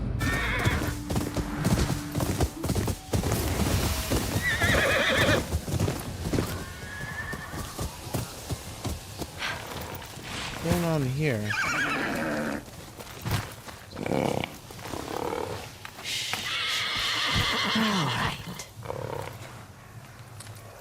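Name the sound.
horse galloping and neighing in video game Ghost of Yotei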